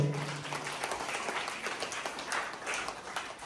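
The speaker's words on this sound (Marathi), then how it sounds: "आपले सर्वांचे लाडके आदरणीय माननीय श्री कुलकर्णी सर यांच्यासाठी जोरदार टाळ्या होऊ दे." At a school ceremony inaugurating a computer room, an audience gives moderate applause for an honoured teacher, with scattered claps blending into a continuous patter at a middle distance.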